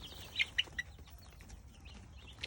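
Several short, faint clucks from a rooster stand out briefly over a steady low background rumble, then fade into quiet.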